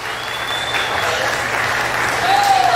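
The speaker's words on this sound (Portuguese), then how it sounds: "pedimos aí uma salva de palmas para o Yuri" Audience at the Destaque Caririense awards ceremony applauding for Yuri; a sustained, dense round of clapping in a hall, with whistles and voices mixed in and the applause swelling slightly toward the end.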